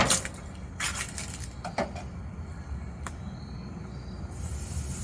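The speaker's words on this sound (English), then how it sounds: "Ooh, I love that sizzle." Steady broadband crackle and hiss of a rack of lamb sizzling on a hot grill, with a few sharp clicks and clatters of tongs, close up and fairly loud.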